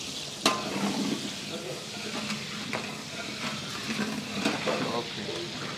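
Small onions fry in oil for Bhimavaram street biryani, with a steady sizzle and occasional clinks and stirring scrapes, and faint voices in the background.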